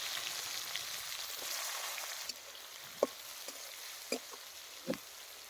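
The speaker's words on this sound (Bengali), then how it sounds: "পেঁয়াজগুলোকে হালকা করে ভেজে নেব।" Chopped onions frying in oil over bay leaf, cumin, mace, clove, cardamom and cinnamon, a faint steady sizzle broken by a few soft clicks of stirring, with no voices.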